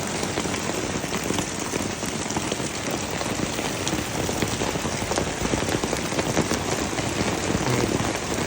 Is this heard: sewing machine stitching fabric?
no